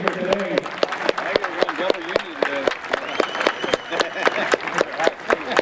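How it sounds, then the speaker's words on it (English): A ballpark crowd at a HarbourCats vs Lefties baseball game claps steadily, a field of sharp overlapping handclaps running throughout while an announcer's amplified voice talks over them. "So have a big round of applause for this demonstration here today."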